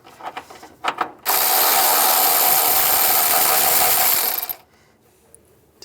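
A 10mm socket on a ratchet backing out a bolt on a 2010-2017 Chevy Equinox windshield washer reservoir. A few soft clicks lead into a loud, continuous three-second whirring rattle that stops abruptly.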